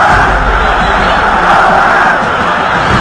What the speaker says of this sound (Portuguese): A torcida gritando, Colorado,